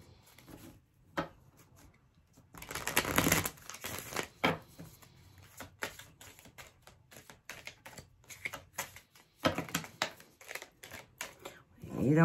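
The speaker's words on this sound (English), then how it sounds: "One more shuffle." Tarot cards are shuffled by hand in quick bursts of riffling and flicking, close and crisp, with some quiet talking mixed in.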